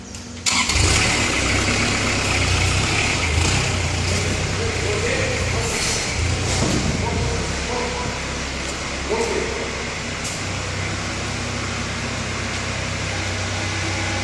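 Engine of a MineMaster tire manipulator starts with a sharp onset and then runs steadily, a loud continuous rumble throughout with some voices faintly mixed in.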